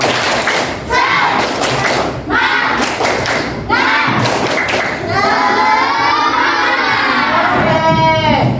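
A class of schoolchildren does a rhythmic spirit clap, with loud, fast clap patterns in bursts mixed with children's shouting and chanting voices.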